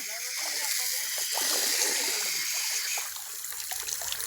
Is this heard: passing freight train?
no